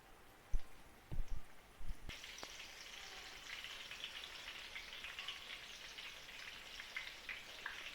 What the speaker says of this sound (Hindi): कोफ्ते हमने बना लिए हैं और हम इनको फ्राई कर रहे हैं।